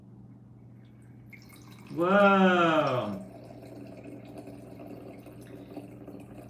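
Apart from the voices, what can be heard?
wine poured from a button-operated dispenser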